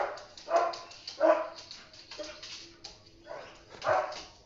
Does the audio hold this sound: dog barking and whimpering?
yes